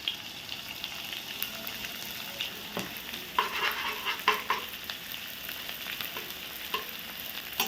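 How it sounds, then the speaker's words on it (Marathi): Edible gum (dink) frying in ghee, a steady close sizzle with occasional stirring clinks and bubbling bursts, no talking. "अशाच प्रकारे हा सगळा डिंक मी आता तळून घेते"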